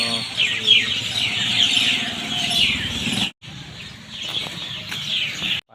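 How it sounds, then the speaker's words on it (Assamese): Small birds chirping and twittering outdoors, a steady busy chorus of quick high calls with a faint low rumble beneath, cutting out briefly near the end. "দেখাই দিছোঁ চৰাই চৰাই আমাৰ ওলাইছে যে"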